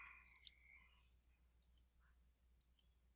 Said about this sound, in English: So just going to hit delete on the keyboard.